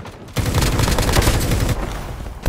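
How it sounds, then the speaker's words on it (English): Rapid gunfire in Call of Duty Mobile: a loud, dense burst of shots runs continuously for over a second, then drops back to quieter game background, with no talking. "I'm getting shot from behind"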